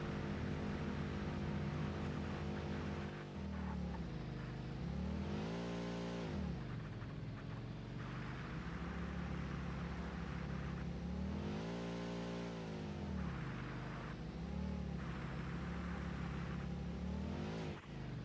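The Explorer vehicle driving in the Satisfactory video game, a continuous engine drone that rises and falls in pitch as it accelerates and eases off, loud and steady with no talk.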